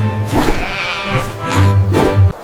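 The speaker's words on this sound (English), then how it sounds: "A little sheep says thank you." A little sheep in an animated farm cartoon bleats loudly and close, with two or three wavering calls in quick succession.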